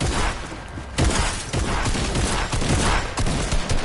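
A grenade blast in a shooting video game, heard as a dense, loud wash of explosive and gunfire-like bursts filling the whole stretch, with sharper surges of impact noise at intervals.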